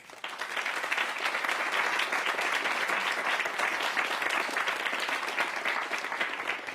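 Studio audience applauding a quartet as it takes the stage on a French television music show, a dense, steady burst of clapping that stays loud and even for several seconds.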